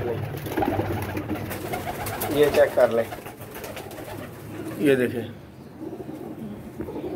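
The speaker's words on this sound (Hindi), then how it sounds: "फिट एंड फाइन कबूतर है सारे।" Pigeons coo softly in the background while someone talks over them, with a few brief rustles and flutters.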